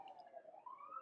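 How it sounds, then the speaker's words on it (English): Emergency vehicle sirens pass outside and drift in through an open window, a faint, distant wail that slowly rises in pitch with no talking over it. "sorry for the sirens, my window's open"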